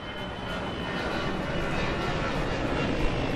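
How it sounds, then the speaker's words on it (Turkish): A passenger airplane roars steadily, its engine drone broad and continuous and fairly loud, with no talking. "Yolcu uçağının sesi şöyledir."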